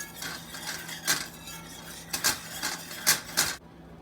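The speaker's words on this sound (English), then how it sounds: "And give that a quick whisk" A whisk clinks and scrapes rhythmically against a pot while mixing evaporated milk for chocolate gravy, several sharp metallic strokes over a quiet background.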